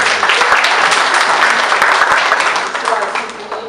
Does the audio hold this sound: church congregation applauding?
yes